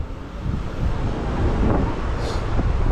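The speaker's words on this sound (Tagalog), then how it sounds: "Lakas ang hangin." Strong wind roars and buffets the microphone in a loud, continuous rumble with no break, recorded on a motorcycle ride where motorcycles are toppling over.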